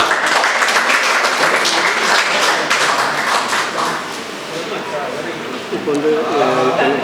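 Sustained applause from an audience honouring prize-winning students at a Tamil association cultural event, dense steady clapping at full volume that gradually thins and softens toward the end, with a voice starting to speak over it in the final seconds.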